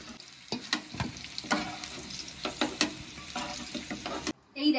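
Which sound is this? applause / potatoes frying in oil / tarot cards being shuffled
potatoes frying in oil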